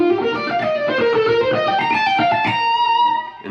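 Electric guitar plays an ascending major scale motif, a continuous run of notes stepping upward at a steady pace, loud and up close with no talking.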